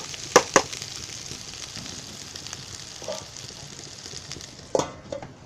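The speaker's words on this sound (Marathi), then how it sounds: "शिजतो तेलामध्ये" Stuffed brinjal curry sizzles gently in oil in a pan, a steady soft frying hiss broken by a few sharp clinks and stirring scrapes, close up.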